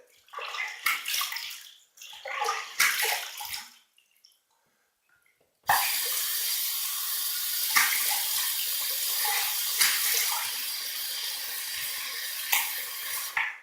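Tap water running into a sink for rinsing after a shave: a few seconds of splashing and intermittent flow, a short silence, then a steady close gush of running water.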